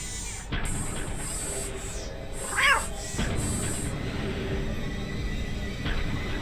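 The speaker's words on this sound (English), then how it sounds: "What's up, cat?" A cat meows once amid steady ambient game sound in a Nancy Drew video game, a brief mid-level cry over a constant background hum.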